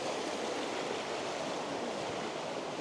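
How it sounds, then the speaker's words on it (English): Chapel Beck rushes past a small footbridge in a steady broadband wash of flowing water, close and unbroken, with no voices. "it's such a lovely river"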